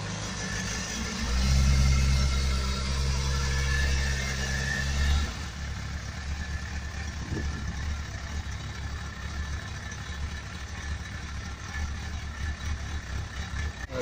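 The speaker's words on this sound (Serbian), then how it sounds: "Zagrevamo motor da postigne radnu temperaturu i da zavrti ventilator." A Yamaha GTS 1000 A motorcycle engine idles steadily while warming up to operating temperature during a coolant change, a low continuous hum that swells briefly early on, then settles into an even drone.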